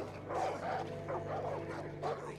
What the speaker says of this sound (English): Some water dogs barking.